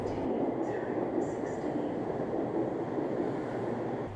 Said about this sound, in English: The train has arrived.